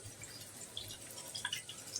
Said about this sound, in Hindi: पानी हम ऐड करेंगे इसमें